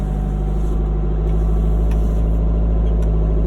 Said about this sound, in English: The revs are right up.